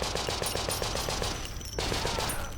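A machine gun emplacement in the game Conscript fires a rapid, evenly spaced burst, breaks off briefly, then starts again, loud and close over a dense layer of battle noise.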